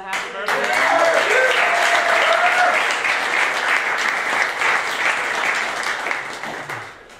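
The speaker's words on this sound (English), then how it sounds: "more round of applause and a happy birthday" Audience applause with a birthday cheer at an interview event, steady full clapping from a crowd with a few whoops and a voice briefly heard over it before it tapers off.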